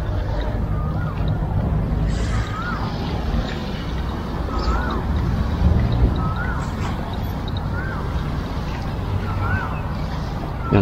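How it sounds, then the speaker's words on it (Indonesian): A speedboat motors past on the sea off Pattaya beach in the morning, its engine a steady drone under continuous wind buffeting on the microphone, fairly near and moderately loud. "Yang kita temui cuma speedboat seperti ini."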